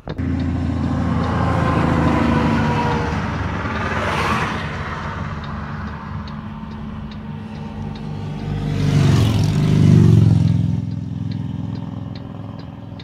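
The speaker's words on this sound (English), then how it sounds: "Maybe it's a bit windy because of all the trucks and cars passing by." Trucks and cars pass by on a nearby road, engines swelling and fading as they go past, with a louder rumbling one toward the end.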